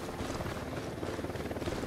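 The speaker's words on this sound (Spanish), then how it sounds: "Ojo, un helicóptero de la unidad." A helicopter in the video game Ghost Recon Wildlands gives a steady rhythmic rotor thump, a low pulsing drone that holds close and even.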